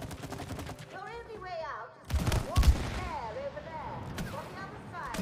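Gunfire bursts in the It Takes Two video game, rapid muffled shots and booms layered under players talking and laughing throughout.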